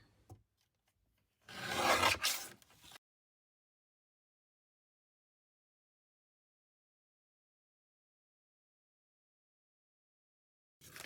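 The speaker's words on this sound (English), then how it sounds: "I could even trim just a hair more off that edge." A blade trims a hair off the edge of a paper card in a single short rasping cut of about a second and a half, close and clear, followed by long silence.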